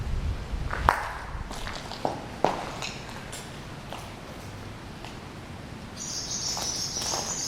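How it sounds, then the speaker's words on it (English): Small birds chirp outdoors on a windy day at the abandoned Camp 30 prisoner-of-war camp, with high, thin calls clearest toward the end over steady wind and crunching footsteps. "Hear the birds?"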